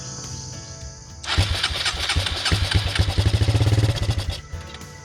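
Suzuki QuadRunner four-wheeler engine cranking and firing up after carb cleaner, starting from a quiet garage background into a loud, rapid sputtering idle with pulsing combustion beats that runs for several seconds, then drops off at the end.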